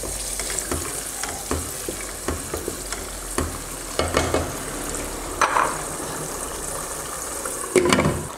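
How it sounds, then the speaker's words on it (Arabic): Grated tomatoes sizzling in hot oil in a Tunisian home kitchen for cauliflower cumin stew, a steady fry with repeated scraping stirs and a few louder clatters toward the end, close and alone. "بعد ما حطينا طماطم الكعب تقلات في الزيت"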